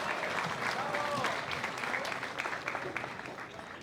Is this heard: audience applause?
yes